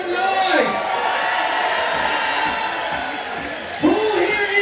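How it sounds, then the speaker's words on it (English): A basketball crowd at a FIBA 3x3 Asia Cup game cheers and whoops for Team India, a steady wash of voices that swells again near the end. "Who here is cheering for Team India? Make some noise."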